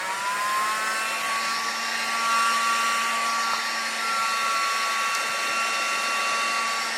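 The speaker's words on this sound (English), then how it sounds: "So I've got the heat gun." Heat gun blowing hot air while loosening glue on a 1972 Regal, a steady close whooshing roar with a thin motor whine throughout, no voices.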